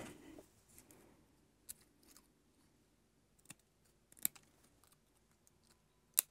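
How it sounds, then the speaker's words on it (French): Scissors cut paper while a small notebook is customised for scrapbooking: a few quiet, crisp snips and clicks spread over several seconds, with one sharper snap near the end, in an otherwise quiet room. "Alors ici, je vais le couper"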